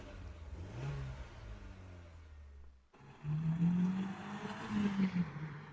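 A car with its stock exhaust idles with a low rumble, then cuts off briefly before revving up in a couple of louder, rising bursts, heard close and fairly subdued.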